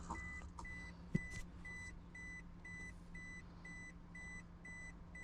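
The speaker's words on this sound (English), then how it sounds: "The annoying beep's back on." A 2008 Toyota Prius with a dead instrument cluster sounds a warning beep with the ignition on, a short high tone repeating at a steady rhythm about every half second, moderately quiet over a low cabin hum.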